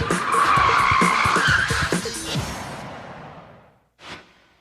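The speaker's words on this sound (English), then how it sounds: "a forward handbrake J-turn" A car skids loudly through a forward handbrake J-turn, a long sustained tire squeal and engine roar fading over a few seconds, followed by a brief whoosh after a moment of near silence.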